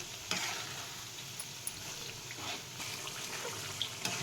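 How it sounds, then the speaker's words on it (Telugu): Cut amla (Indian gooseberry) pieces being stirred into pickle masala in a pan, a steady soft wet scraping and sizzling texture with occasional light clicks, close and continuous with no talking. "ఈ ఉసిరికాయ ముక్కలకు బాగా పట్టేలా కలుపుకోవాలి"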